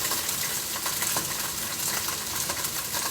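Pieces of polenta sizzle and crackle in a hot pan, a steady close frying hiss with small pops and spits throughout, no talking.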